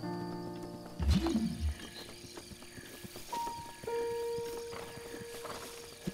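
A horse in the video game The Legend of Zelda: Breath of the Wild snorts and whinnies near the start, then hooves clip-clop softly beneath steady game music and ambience.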